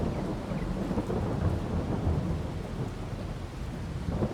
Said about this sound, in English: Now it is raining, so our hay's getting wet